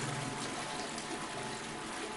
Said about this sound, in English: Well, at least this place is running water.